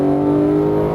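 Porsche GT3 on the Exotics Racing track accelerating at full power out of a turn, its engine a loud, close, steady droning roar heard from inside the car.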